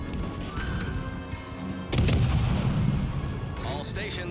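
Heavy naval gunfire from warships in the video game World of Warships Legends: a loud booming salvo erupts midway and rumbles on, following a quieter stretch of battle ambience.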